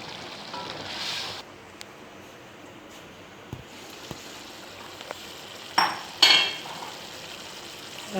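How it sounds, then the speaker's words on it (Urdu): Minced keema sizzling gently in oil in a karahi, a soft steady crackle with occasional clinks and two louder scraping stirs near the end. "اب ہم اس میں 1 چھوٹا کپ آئل ایڈ کریں گے اور اس کو تھوڑی دیر کے لیے بھونتے ہیں"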